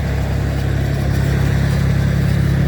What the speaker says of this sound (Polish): jakiś tam silnik prądotwórczy